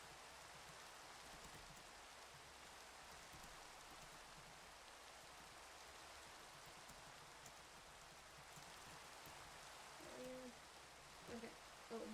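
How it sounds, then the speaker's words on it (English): Steady rain falling, a faint, even hiss throughout, with a few soft tonal hoots and small knocks near the end. "Oh, it's raining."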